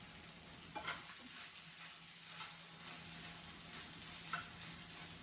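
Vegetables sizzle steadily in a hot pan over a camp stove, a constant crackling hiss up close, with a few faint clicks and stirring sounds.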